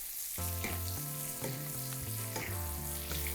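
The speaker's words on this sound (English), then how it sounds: "I'm gonna start to baste my fish" Asian carp fillet frying in a pan with garlic and thyme while hot fat is spooned over it, a steady close sizzle with bright clinks of the basting spoon against the pan, no talking.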